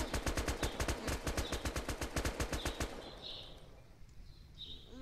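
Rapid, evenly spaced gunfire bursts from a sniper rifle in the Roblox game, loud and close for about three seconds, then stopping and leaving fainter game ambience with a few brief chirps.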